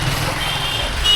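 A red MSRTC state transport bus, the Lalpari, idles nearby with a steady low engine rumble and a continuous hiss, while a faint beeping tone sounds near the end.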